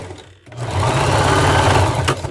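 A sewing machine stitches fabric for an XXL scrunchie, running as a steady, close, continuous whir after a brief pause at the start, with no talk over it.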